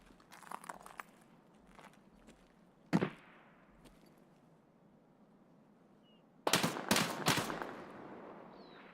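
Gunfire in the shooter game Escape from Tarkov: a single sharp shot, then a tight cluster of loud rapid shots near the end, over a quiet low background.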